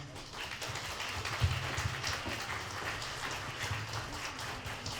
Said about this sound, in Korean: 하객 여러분, 친구분들을 따뜻한 박수로 모셔보겠습니다.